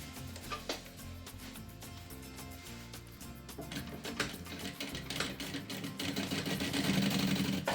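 A sewing machine stitching a seam along the full length of a preschool backpack, a continuous close mechanical whir with rapid needle ticking that grows slightly louder toward the end, heard alone without speech.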